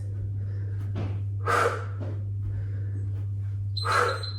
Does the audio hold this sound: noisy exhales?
yes